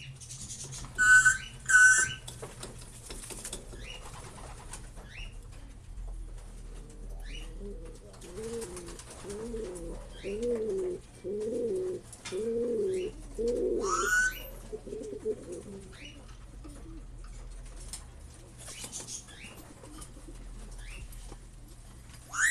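Paragon racing pigeons coo in a run of soft, low, repeated throaty calls close by, with a few sharper chirps and flutters before and after in a quiet loft.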